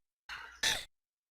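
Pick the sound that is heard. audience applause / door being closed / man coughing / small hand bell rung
man coughing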